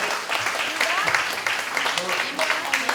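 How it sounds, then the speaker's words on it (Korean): Congratulatory applause from guests at a 94th birthday celebration, steady broadband clapping running throughout with voices and chatter mixed in underneath. "여러분 축하의 박수 부탁드립니다."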